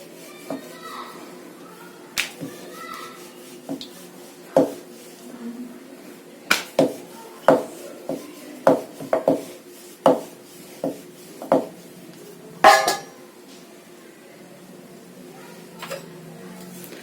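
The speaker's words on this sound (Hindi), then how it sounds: "तो ये सारा कटिंग करके रख लेते हैं" A knife chops vegetables for papri chaat, giving about a dozen sharp, close taps at an uneven pace against a quiet kitchen background, with no one speaking.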